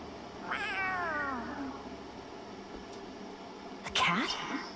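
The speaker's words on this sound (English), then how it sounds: "A cat? Where'd it come from?" A cat in the role-playing game Tales of Arise gives a drawn-out, wavering meow near the start, then a second, sharper meow just before the end, both close and clear.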